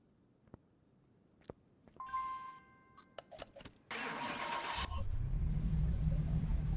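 A tuned car in Car Mechanic Simulator 2021 cranks and fires up on a Dynojet dyno after scattered clicks, then settles into a loud, steady engine roar that holds to the end.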